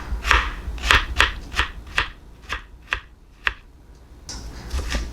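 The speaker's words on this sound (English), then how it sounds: "So these are big, so I'll cut them in half and then I'll just do little thin slices." A knife slices big radishes into thin pieces on a cutting board, about ten crisp, evenly spaced cuts in a steady rhythm, close up and clear.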